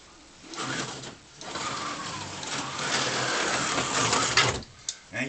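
A Jeep whips through a J-hook maneuver: a loud, sustained rush of engine and tire noise builds over several seconds, then breaks into short abrupt bursts as the vehicle swings around.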